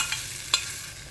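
Spices temper in hot oil in a pan for a raw mango, coconut and yellow gram chutney, giving a faint, steady sizzle with a couple of small pops.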